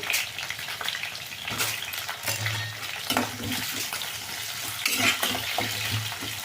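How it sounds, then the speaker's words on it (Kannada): Cut tomatoes fry in oil with a continuous close sizzle and bubbling, broken by repeated stirring scrapes of a spoon against the pan. "ಇದೆಲ್ಲ ಎಣ್ಣೆನ ಚೆಂದಾಗಿ ಫ್ರೈ ಆಗಲಿ."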